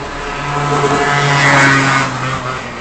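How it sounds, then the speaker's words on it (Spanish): A motorcycle engine rumbles and swells as it passes nearby, its drone rising to a peak in the middle and then easing off. "La moto, esa moto."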